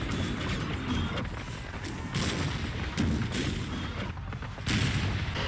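Civil War artillery duel at Antietam, with cannon fire booming continuously in a dense, rumbling barrage, heavy thuds overlapping one another at close to middle distance with no pause.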